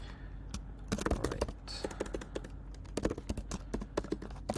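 Fingers type on a computer keyboard in fast, uneven bursts of close, clicky keystrokes, with brief pauses between runs.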